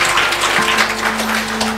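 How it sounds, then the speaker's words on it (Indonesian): A church congregation applauds in a steady, dense wash of clapping that holds at an even level throughout, with a low hum running underneath. "Kasih tepuk tangannya paling meriah."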